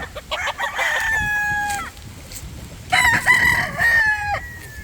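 A Boston stag gamefowl rooster crows twice, close and loud, each call a long drawn-out cock-a-doodle-doo with a brief gap between, over faint farmyard background.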